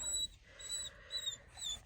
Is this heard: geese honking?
no